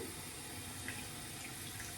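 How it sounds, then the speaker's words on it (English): Tap water runs from a faucet into a sink while it heats up, a steady hiss of flowing water that sounds close and continuous, with no voices. "the water's gonna have to run. It's gotta get hot."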